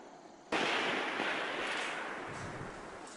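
A single sharp sniper rifle shot fired during special forces night training in South Korea, a sudden loud blast that booms and rolls away in a long echoing decay, heard alone.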